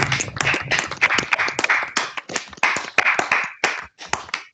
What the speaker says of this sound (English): give Mary a round of applause to show your appreciation for her sharing her research with us this afternoon